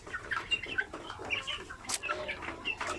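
A flock of chickens being raised for sale by the kilo cluck and chatter close by in a busy, overlapping jumble of short calls, with a brief flutter partway through.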